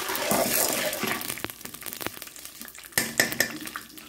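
Popcorn kernels are stirred in oil in a pot, a busy sizzle with scraping and clinking from the utensil against the pot, rising again in a burst of stirring near the end.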